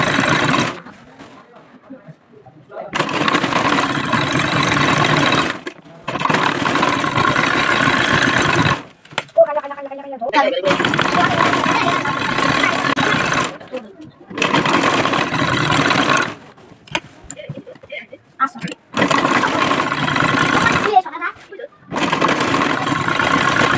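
A home sewing machine stitches around the lace-trimmed panel of a dress in repeated loud mechanical bursts of several seconds each, separated by short pauses with quieter handling sounds.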